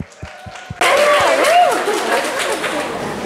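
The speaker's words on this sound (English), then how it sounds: "a big round of applause for Engineers.SG" An audience at a tech community event bursts into applause after a few soft thumps, the clapping loud and sustained, with voices and chatter rising through it.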